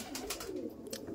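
Laldom pigeons give soft, low cooing notes close by, a faint murmuring coo with a few brief flutters or rustles over quiet background.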